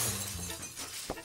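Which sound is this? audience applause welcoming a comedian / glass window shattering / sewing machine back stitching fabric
glass window shattering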